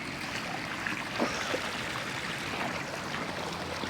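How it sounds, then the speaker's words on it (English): Fast-flowing floodwater rushes across a flooded road, a loud continuous churning wash with occasional splashy surges, steady and close throughout without speech. "this fast moving water"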